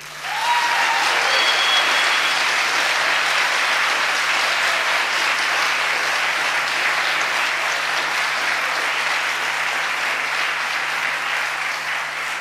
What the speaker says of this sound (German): Der Applaus für dich